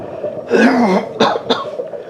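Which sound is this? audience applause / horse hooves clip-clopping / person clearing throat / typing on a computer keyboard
person clearing throat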